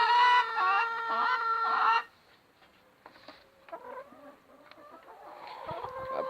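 Red laying hens on a poultry farm cluck and cackle nearby, a loud harmonic burst at the start dropping to softer scattered clucks and calls.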